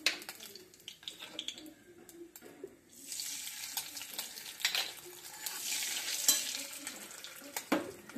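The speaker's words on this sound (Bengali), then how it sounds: "আলুটা ভেজে নেব" Cut potatoes frying in a pan with cumin seeds tempered in oil, a steady sizzle broken by scraping stirs and light clatter of utensil against the pan, close and moderately loud.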